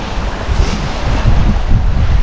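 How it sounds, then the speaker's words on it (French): Strong wind roars and buffets the microphone in a heavy, continuous low rumble, with the wash of choppy lake water beneath. "en espérant que le vent tombe un peu"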